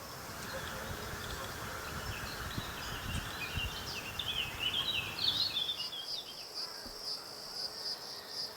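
Bees and other insects buzzing around melon flowers, with a steady high insect drone and chirping, a brighter burst midway, continuous and moderately loud outdoors.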